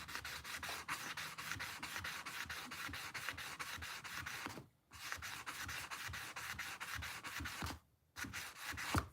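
Case trapper knife blade being sanded and reprofiled, a steady close rubbing rasp in repeated strokes with two brief pauses, no talk.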